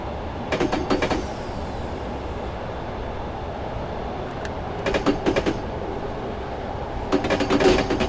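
A train coasting at about 50 mph between Sheffield and Manchester via Woodhead in Train Simulator 2017, with a steady rolling rumble and bursts of rhythmic clickety-clack over rail joints, without talk.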